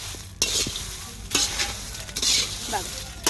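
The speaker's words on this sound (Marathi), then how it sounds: "अशी मिरची भाजून घेते" Green chillies roasting in a pan with a little oil, a loud close sizzle broken by several sharp stirring scrapes and clatters against the pan over a few seconds, no voices.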